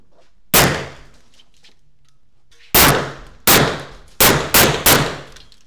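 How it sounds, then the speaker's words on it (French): Six loud, sharp cracks from an Arpax 9 mm Flobert revolver fired at a shooting range: one shot, a pause of about two seconds, then five quick rapid-fire shots, each ringing briefly with no talk. "On va aller faire ça en tir rapide."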